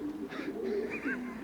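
Racing pigeons coo softly and continuously inside a huge loft in Doncaster holding many birds, with low overlapping calls close by and no talking.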